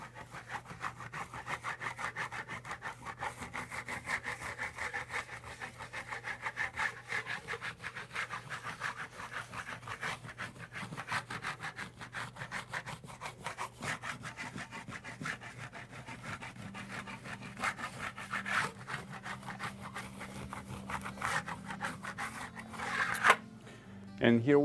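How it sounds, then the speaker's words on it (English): Steel trowel buffing wax over burnished plaster on a red Pompeii grottesca finish, a continuous close rhythmic rubbing and scraping of quick back-and-forth strokes. "I like to use the trowel again, sort of in the same effect. It's buffing the wax and it's also burnishing the plaster once again."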